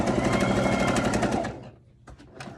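A sewing machine stitches the edge of an evening dress under the presser foot, a fast loud rattling run for about a second and a half, then stops before two brief short bursts of stitching.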